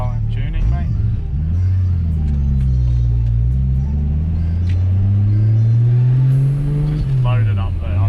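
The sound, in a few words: turbo car engine revving under load on the brake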